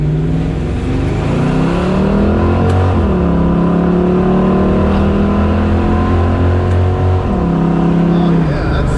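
A 1969 Camaro fitted with new gears accelerates hard, the loud V8 climbing steadily in pitch through each gear, with two brief dips at the shifts before it pulls up again.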